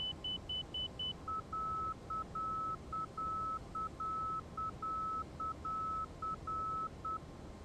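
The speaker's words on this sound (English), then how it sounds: "This beeping is very strange" An airliner cockpit alert in the X-Plane 12 flight simulator beeps in a fast, regular run. A higher tone pulses briefly before a lower tone repeats steadily in short and long bursts over a quiet background hum, with no talking.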